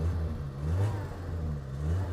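A 1998 Citroën Saxo K-Way with 200,000 km on it idles close by with a steady, even low rumble and no talking.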